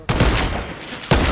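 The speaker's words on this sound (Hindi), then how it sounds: "ये कौन स्नाइपर चला रहा है" Two sharp sniper shots in the video game Fortnite, one near the start and another about a second later, each a loud close crack with a short tail.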